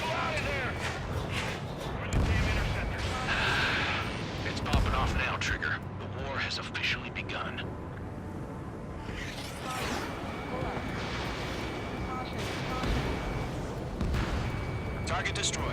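Anti-aircraft guns fire in the video game Ace Combat 7, a dense, continuous barrage of booming bursts and crackling explosions running throughout, with radio voices talking over the battle.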